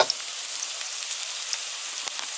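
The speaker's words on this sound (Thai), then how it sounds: "เราจะต้อง คั่วต่อไปอีกหน่อยหนึ่งเพราะว่าน้ำมันยังร้อน" Pork stir-fried with shrimp paste and chili in hot oil sizzles loudly and evenly at close range, a bright continuous hiss with faint crackles and no voices.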